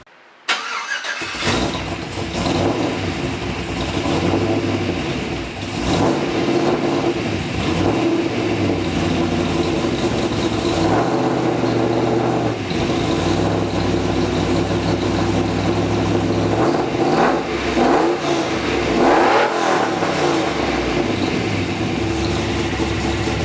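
A Chevrolet Silverado truck engine, freshly rebuilt and not yet tuned, runs loud and steady close by, with repeated revs rising and falling over a continuous idle and no talking.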